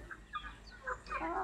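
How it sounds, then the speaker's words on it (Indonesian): Free-range village chickens clucking while they wait to be fed fermented bran and sago feed, several soft, low clucks and murmurs at close range, quiet and intermittent. "Sekarang kita berikan ke ayam. Ini ayamnya sudah pada menunggu."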